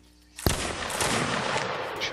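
A single loud musket shot cracks sharply in Mount & Blade: Warband Napoleonic Wars, followed by a lingering rumble of distant volley fire and battle ambience.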